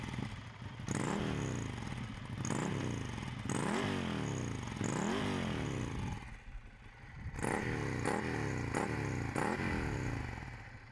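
A Ducati Scrambler 800 Icon motorcycle engine revs up and down repeatedly, its pitch sweeping through rising and falling surges, with a short dip before more throttle bursts.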